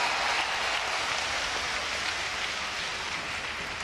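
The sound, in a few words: audience applause at hospital inauguration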